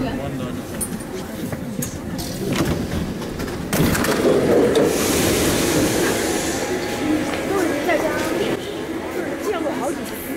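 Paris metro train riding, an older carriage with lever-operated doors, heard from inside as a steady rumble and rattle that grows louder midway, with chatter and talk over it.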